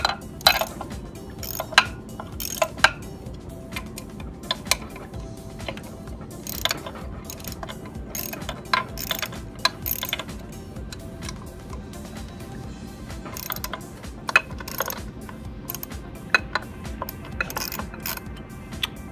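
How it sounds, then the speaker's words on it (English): A socket wrench ratchets to loosen four motor bolts, with bursts of close, crisp clicking repeating irregularly over a quiet mechanical background. "Now we're going to use our socket wrench, and we're going to loosen but not remove the four bolts"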